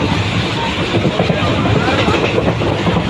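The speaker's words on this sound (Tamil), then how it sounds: "ட்ரெயின் லேட்டுனால கொஞ்சம் பறக்குது வண்டி" A Dindigul to Madurai superfast express train running at high speed, heard from on board as a loud, dense, continuous rumble and rush of wheels and wind with no clear breaks.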